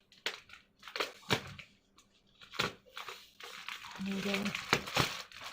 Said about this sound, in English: noise comes with opening diamond paintings